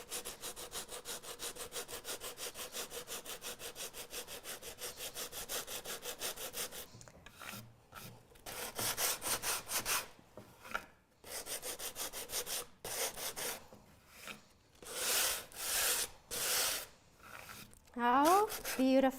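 Wood being sanded by hand, a run of quick even scrubbing strokes that later breaks into separate louder rubbing passes with brief pauses between them.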